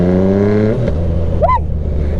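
Yamaha MT-09 motorcycle engine while riding, heard as a loud, close, steady harmonic drone that drops in pitch, then a brief rising whine, with wind rush throughout.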